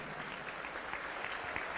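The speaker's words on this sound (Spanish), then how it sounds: "Más alegre las palmas para Cristo" A church congregation claps along during a lively worship service, with dense continuous applause at moderate distance and no pauses.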